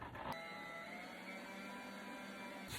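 A stand mixer kneads yeast roll dough at increased speed, giving a steady, faint motor whir with a constant mechanical drone throughout and no voices.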